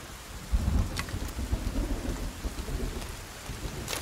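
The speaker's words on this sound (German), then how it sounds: "aber der Regen und das ganze Wetter" Rain and a thunderstorm in the survival game Sons of the Forest: steady rainfall patters on surfaces while deep thunder rumbles roll in low and heavy, with sharp raindrop ticks scattered throughout and no voices.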